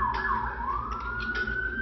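A siren wails in a distance, its pitch sweeping down and then climbing steadily over a low background rumble, moderately faint and heard alone for under two seconds.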